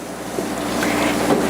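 Elderberry apple jelly, a batch made without fruit pieces, boils hard in a pot and threatens to foam over, giving a steady, close, roaring bubbling wash with no voices.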